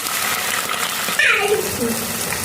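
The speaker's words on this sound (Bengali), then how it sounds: "দিয়ে দিব পানি, ভাজা ভাজা হয়ে গেছে" A brief gush of water hits spices frying in a hot pan, with a loud sizzle and bubbling that swells suddenly and then settles into a steady hiss.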